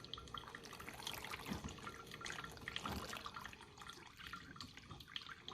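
Vinegar is poured into the water tank of a Cuisinart 12-cup programmable coffee maker, a faint, continuous splashing trickle of liquid lasting several seconds.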